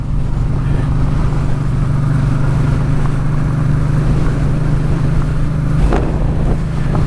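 A motorcycle on a moto-tourism ride slides over rough, loose ground near a rock quarry. The engine drones steadily through continuous heavy wind rush, with a couple of brief knocks.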